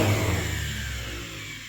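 The engine of a 1949 Ferguson TO-20 tractor, long neglected and just revived, fires and turns over with a loud, close, low rumbling drone that slowly fades over a couple of seconds.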